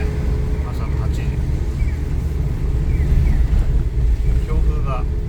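Strong typhoon wind on Okinawa's main island roars steadily against the microphone, with rising gusts and a continuous loud rush throughout.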